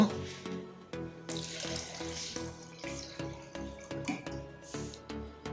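Water splashes and gurgles into a homemade water-heater jug in uneven pours, close by, with faint clinks and a low background hum.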